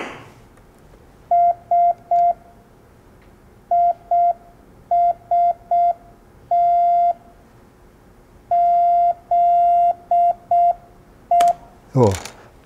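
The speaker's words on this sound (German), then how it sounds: "Koch würde sagen, bei dem Tempo zerfällt das Klangbild des Morsezeichens" Morse code telegraphy keyed at about 30 characters per minute, a clean single-pitch tone beeping in short and long groups with gaps between characters.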